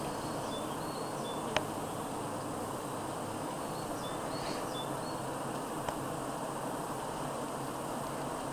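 Bees and a wasp in a hive fight, a continuous insect buzz and hum holding steady throughout at moderate level, with a couple of faint sharp clicks and no voices.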